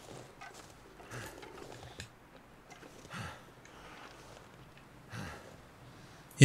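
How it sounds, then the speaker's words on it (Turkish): A wolf in the survival video game The Long Dark growls and snorts while feeding, with several low rumbling bursts spaced apart, moderately close but fairly quiet. "Kurt olan o, tavşan değil o."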